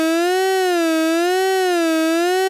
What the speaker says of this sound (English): And obviously you can hear the pitch adjusting or modulating.